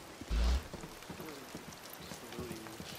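Rain falls steadily in the video game Days Gone as a soft, continuous patter, with a brief low thump near the start and faint voices mixed underneath.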